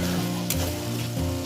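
Salt, turmeric, chilli powder, cumin powder and milk powder frying in a pan, a loud continuous sizzle with stirring scrapes throughout.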